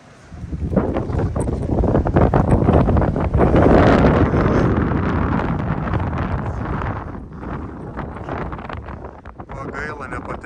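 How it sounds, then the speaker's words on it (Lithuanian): Strong wind gusts in Spain batter the microphone with loud, surging roars that swell toward the middle and then ease slightly, with rumbling buffeting continuing to the end. "Vėjas nežmoniškas."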